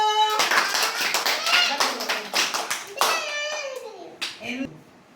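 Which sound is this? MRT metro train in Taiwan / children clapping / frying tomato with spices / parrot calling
children clapping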